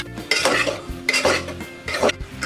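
Brinjal pieces are stirred into a tomato curry in a pan. A spoon scrapes and clanks against the metal in three quick rounds, with a faint sizzle between the strokes.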